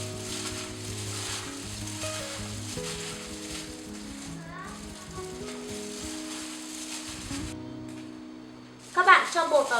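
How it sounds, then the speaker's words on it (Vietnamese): Batter-coated fish pieces frying in hot oil for a Vietnamese fish noodle soup, a steady close sizzle under background music, swelling into louder crackling bursts near the end. "Các bạn cho bột vào chiên, cho vào ướp cái cá để chiên ấy"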